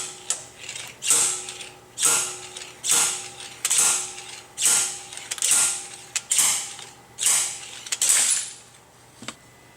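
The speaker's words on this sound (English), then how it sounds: "we're now going to start pulling out the bearing" A worn clutch pilot bearing is drawn out of the back of a crankshaft with a removal tool, giving about nine evenly spaced metallic ratcheting creaks, each a short grinding squeal, loud and close with no talk.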